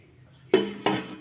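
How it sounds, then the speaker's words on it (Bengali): A heavy iron weight set onto the covered pot of chicken biryani gives two distinct metallic clanks about a third of a second apart, close and loud in a quiet kitchen. "একটা ভারী এই লোহাটা চাপিয়ে দিয়েছি"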